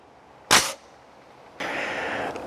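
A rifle chambered in 6.5 Grendel or 6.8 SPC II fires one loud, sharp shot outdoors at a range with targets at 100 yards, followed by a lingering noisy wash.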